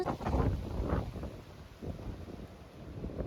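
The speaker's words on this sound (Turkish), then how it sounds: "Çok rüzgar var." Gusting wind buffets the microphone in low, uneven rumbles, rising and falling close up, with no voices.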